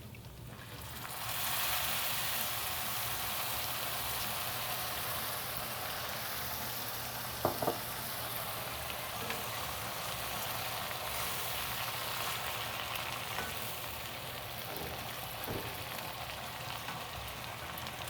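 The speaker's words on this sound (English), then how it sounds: "So for Moscato, we're looking to deglaze this." Moscato dessert wine hits a hot pan and sizzles loudly. The hiss is broad and continuous, with occasional faint clinks and no voices.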